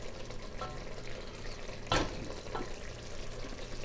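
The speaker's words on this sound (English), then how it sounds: "I've lifted the temperature up a bit. I want to do a bit of a reduction in the sauce" Sauce for a Brazilian moqueca fish stew bubbles and sizzles steadily in a pan as it simmers and reduces. The sound is a continuous close hiss with one brief louder clink or stir partway through, and no talk.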